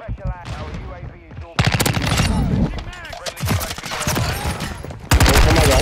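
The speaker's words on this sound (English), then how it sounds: "Pulled out that shotgun." Shotgun blasts and gunfire in a Call of Duty: Modern Warfare II Kill Confirmed match, loud bursts that cut in sharply around a voice talking, with a heavy blast near the end.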